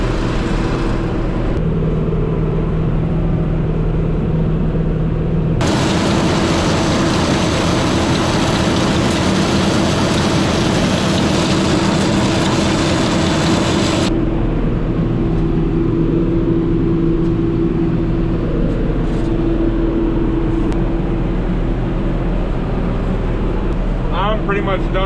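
A tractor in low range gears pulls a Haybine mowing weedy mulch hay in a field, its engine a loud, steady drone that swells into a heavier roar for several seconds before settling back.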